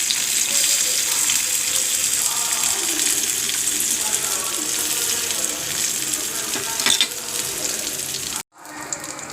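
Steady broadband sizzling of onions frying in hot oil, loud and continuous, cutting off abruptly near the end.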